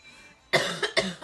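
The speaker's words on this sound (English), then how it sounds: "I've had a cough for like a year on and off" A person coughs close to the microphone in three quick, harsh bursts after a brief quiet moment, with no speech.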